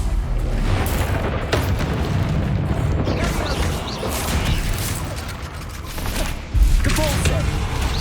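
Bombarda blasting spells in Hogwarts Legacy boom amid combat, a dense stream of thuds and bursts with clattering impacts, loud and close, while a voice calls out spell names.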